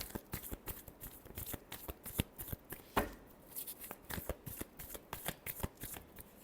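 A deck of tarot cards is shuffled by hand in a steady run of crisp riffling flicks and soft slaps, close and fairly quiet, with no voices.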